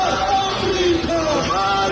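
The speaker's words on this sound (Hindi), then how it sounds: "ईरान के तेहरान में भारी भीड़ सड़कों पर थी। वो जी जान से नारे लगा रही थी।" A large crowd in the streets of Tehran chants slogans in unison, a loud, sustained roar of many voices with rising and falling pitch, close and filling the whole short moment.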